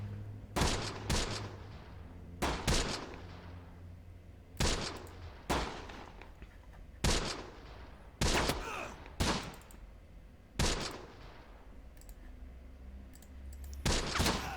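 Gunfire from the World War II strategy game Close Combat: The Bloody First crackles in repeated bursts of rifle and machine-gun shots, roughly every second or two, sharp and fairly loud, with brief quieter gaps between volleys.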